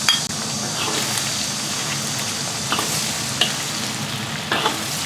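Scallions and ginger stir-fried in hot oil in a pot for braised noodles, giving a steady loud sizzle with a few sharp scrapes and clinks of the utensil, no voices.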